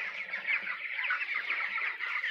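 Chickens on a poultry farm cluck and chatter in a dense, continuous flock, the overlapping calls close and fairly loud with no talking.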